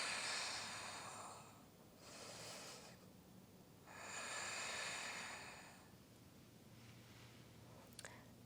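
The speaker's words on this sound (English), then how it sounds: "Breathing in and out through your nose." Slow, deep breaths in and out through the nose during a yoga session, three long airy swells separated by pauses, close and quiet with no voice over them.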